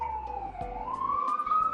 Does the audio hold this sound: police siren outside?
yes